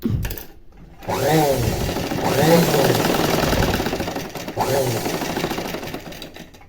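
A sewing machine stitches piping onto a plain blouse in steady whirring bursts, running close and fairly loud with short pauses between runs.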